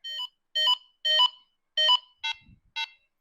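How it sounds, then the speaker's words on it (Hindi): A Convey C1 ultra-slim two-way radio walkie-talkie sounds six short, close electronic beeps in a quick irregular series as its volume is turned down, clear against silence. "जैसे मैं लो कर रही हूं ये लो बीप बजा रहा है"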